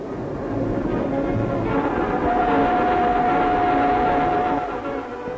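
An English train runs along the rails, a steady rumbling roll with a long sustained horn-like tone through the middle, moderately close and alone.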